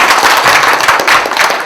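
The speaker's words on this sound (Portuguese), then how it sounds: "solicito uma salva de palmas para a apresentação" An audience claps in a steady, dense round of applause after a seminar presentation, loud and close for the whole short stretch with no voices over it.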